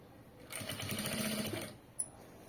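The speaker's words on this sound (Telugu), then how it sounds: "స్టిచ్ చేసుకుంటూ వెళ్ళిపోవాలి." A sewing machine stitches lace onto a garment neckline in one steady, close whirring run of about a second, stopping abruptly, followed by a brief click.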